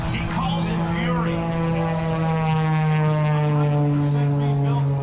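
A Pitts S2S aerobatic biplane, one of 17 factory-built and named Fury, drones steadily overhead at an air show, its engine tone holding level with a slight rise and fall, while a voice talks over it throughout.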